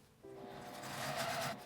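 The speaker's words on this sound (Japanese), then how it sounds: "端から1センチを縫います。" A sewing machine runs a short continuous burst of stitching along fabric about 1 cm from the edge, a close, steady mechanical whir with no talk.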